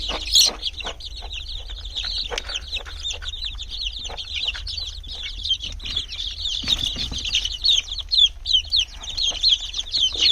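Chickens clucking and chattering continuously nearby as they eat, with occasional wing flaps and scratchy movement over a low background hum.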